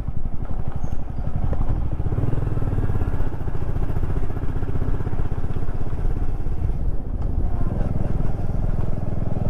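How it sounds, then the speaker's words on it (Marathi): Motorcycle ridden toward Divegar beach on the Konkan coast, its engine droning steadily and loud close up with a rough low rumble throughout, no clear talk. "आपली बाईक आपण डिरेक्टली आणली आहे बीचवरती चालवायला"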